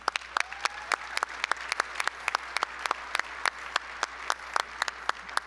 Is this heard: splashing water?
no